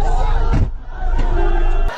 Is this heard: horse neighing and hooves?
no